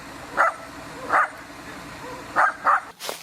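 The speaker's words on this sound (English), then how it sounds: "It's not every day that you see a dog giving his own acceptance speech" A dog gives four short, sharp barks in an uneven rhythm, close and loud, at a ceremony held by Ukraine's president.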